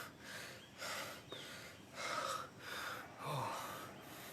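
Heavy, rhythmic breathing during a HIIT cardio workout comes as four or five loud, close gasping exhales and inhales, evenly spaced with short pauses between them.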